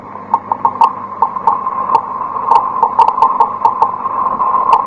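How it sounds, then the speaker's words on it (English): A Geiger counter's rapid irregular clicking over a steady hum, with sharp ticks arriving in uneven bursts, fairly loud and close, in a classic radio drama. "That sound is being made by a Geiger counter, a device for detecting radioactivity."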